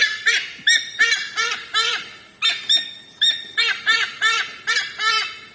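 A bird at the Philippine Eagle Center gives a loud, close series of repeated honking calls, about a dozen evenly spaced squawks in steady rhythm.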